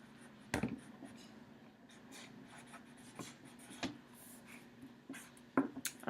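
Students in a classroom writing on paper, with soft scratching and rubbing strokes under a quiet room tone and a few sharper knocks, faint and intermittent.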